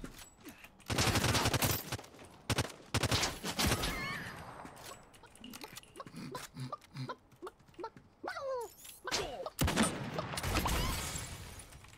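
Sniper rifle gunfire in a video game, heard as sharp, loud shots in bursts with mechanical reload clicks between, mixed with other game sound effects.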